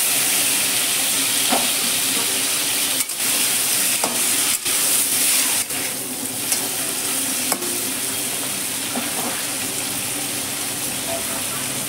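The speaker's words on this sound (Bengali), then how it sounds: "এখন চিংড়ি মাছগুলো ভেজে নেব।" Prawns frying in hot oil for a chilli prawn dish with onion, giving a steady, loud sizzle that runs the whole time, broken by a few sharp spatters and stirring clinks, with no talking.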